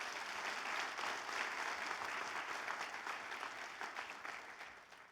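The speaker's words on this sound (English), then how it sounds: "give them a round of applause" At a Senate candidate forum, an audience breaks into full applause, a dense, even roar of many clapping hands that holds steady and then slowly fades toward the end.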